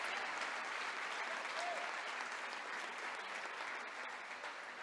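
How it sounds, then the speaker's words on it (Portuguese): A church congregation at a Resurrection service applauds, sustained, even clapping from a crowd heard at a moderate distance and fairly faint, holding steady throughout with little change. "Você pode aplaudir, glorificar o nome do Senhor?"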